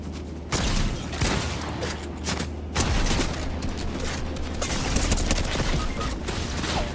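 Rapid video-game gunfire from a Fortnite match: dense, continuous bursts of shots with repeated loud cracks, close and steady throughout, with no talking over it.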